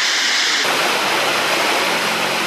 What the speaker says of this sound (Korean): 거대한 절벽을 따라 시원하게 쏟아지는 이 폭포의 또 다른 이름은 비단폭포.